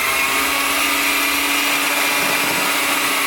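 An electric mixer whirs loudly and steadily as it beats eggs for Macedonian braided cookie dough, a dense unbroken motor drone close up with no pauses or speech.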